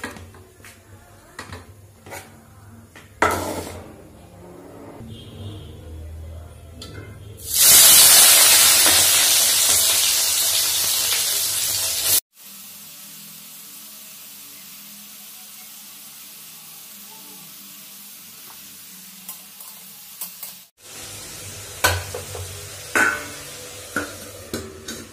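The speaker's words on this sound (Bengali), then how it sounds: "আলু ভাজা তো বসিয়ে দিলাম" Potatoes frying in hot oil in a wok give a loud, bright sizzle that bursts up and holds for several seconds, then drops away to a quiet hiss, with occasional clinks of stirring before and after.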